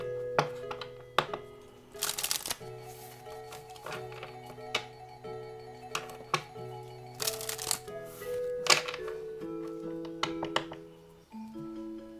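Oracle cards being shuffled for a tarot-style reading, with repeated soft riffling bursts and light taps close by, accompanied by a steady tonal background and no talking.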